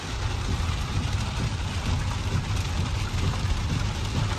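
Heavy rain pours during a road trip from Haridwar to Neelkanth, a dense, continuous hiss of drops beating on a surface alongside a low engine rumble, steady and loud throughout with no talking.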